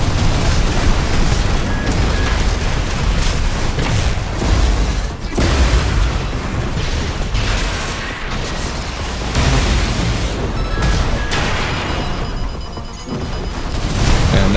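Missile salvo and explosions in the mech combat game Armored Core 6, a dense, continuous roar of booms and blasts with rapid bursts, loud and sustained throughout with brief dips.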